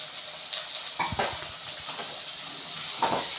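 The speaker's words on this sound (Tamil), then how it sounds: "வெங்காயம் தக்காளி நல்லா வதக்கிக்கோங்க." Onions and tomatoes sauté in a pan for a beans poriyal, with a steady sizzle broken by a few scraping stirs of the spoon, close and clear with no talking.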